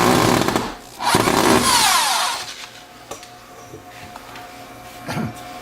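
A self-tapping screw is power-driven into a banner framing system's frame: a loud whirring burst in the first two seconds, then quieter tool handling and clicks.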